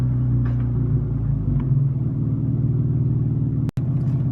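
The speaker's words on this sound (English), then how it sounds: "I'm probably the loudest car here right now." A loud car engine at a cars and coffee meet: a steady low rumble idles close by, with a brief sharp click near the end.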